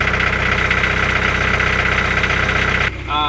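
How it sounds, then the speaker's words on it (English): A sailboat's inboard engine idles steadily at low revs with a dense, even mechanical knock and hum, loud and close, until it drops away near the end. "The engine will smooth out as the revs go up."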